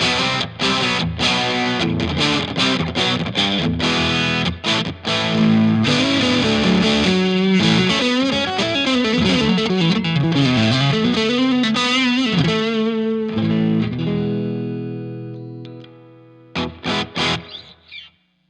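An overdriven electric guitar through a Joyo Ultimate Drive pedal plays gritty chords and single-note runs, ringing out and fading, followed by a few short strums.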